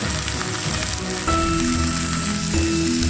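Finely chopped tomato fries with onions in a pan, a continuous crackling sizzle with a faint steady hum underneath and a slight lift in intensity partway through.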